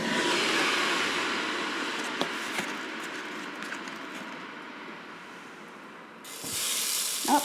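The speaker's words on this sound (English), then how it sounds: "So I'm just going to place my steak down on the grill now." A buttered New York strip steak sizzles on a Ninja Foodi grill, giving a broad, steady hiss that slowly fades with a few small ticks and pops, then swells again in a brief louder burst near the end.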